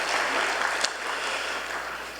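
A church congregation at a Sunday service gives a brief round of applause, steady dense clapping from a crowd in a hall, short and fairly loud throughout.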